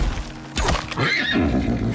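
A horse-like thesaurus creature in the game Icarus lets out snorting neighs and whinnies in short bursts, close and loud, with no talk over it.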